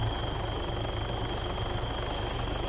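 Helicopter in the military game ArmA 3, a steady low rotor thump with an engine whine, heard at moderate distance and fairly faint, with no voices.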